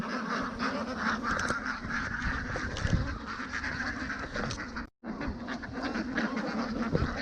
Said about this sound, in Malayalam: ഫുള്ള് താറാവാട്ടോ, കാണുന്നൊക്കെ താറാവാണ്.